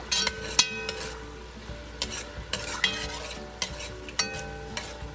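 Onions and celery sizzle softly in fat in a pan for a cottage pie, broken by sharp scraping and clinking strokes of a utensil against the pan at irregular intervals, close up with no voices.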